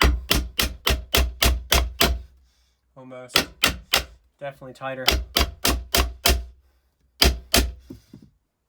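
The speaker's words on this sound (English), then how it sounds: "Let me grab my hammer, and I'm going to tap it real quick" Sharp, loud hammer taps on a wooden roof brace come in quick rhythmic bursts of several strikes each, separated by brief pauses in which someone speaks.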